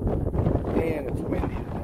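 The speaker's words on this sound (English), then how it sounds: "And it's windy today." Wind gusting across an open field in England, buffeting the microphone with a steady low rumble for the whole moment, no other distinct sounds above it.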